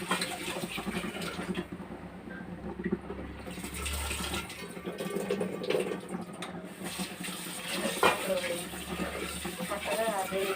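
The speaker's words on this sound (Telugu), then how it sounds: "అయితే దీన్ని బాగా కడిగి 2-3 సార్లు బాగా కడిగి" Moong dal being rinsed in water in a kitchen, with steady running and splashing water like a tap filling a vessel, continuous throughout and fairly close.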